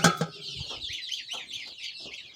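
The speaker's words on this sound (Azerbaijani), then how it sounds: "Onun kürt toyuqları." Kurdish hens clucking close by in a village yard, a short run of soft throaty clucks and murmurs with no voices.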